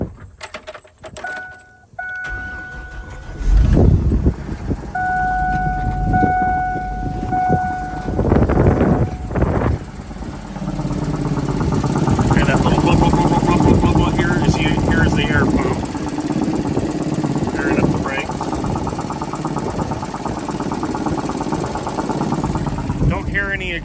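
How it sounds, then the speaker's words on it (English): A 2008 GMC 7500 truck with an 8.1 engine cranks and starts after a few seconds of clicks and a chime, then settles into a steady, loud idle rumble heard close by. "now I'm going to start the truck"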